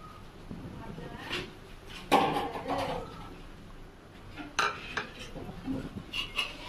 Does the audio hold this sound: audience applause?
no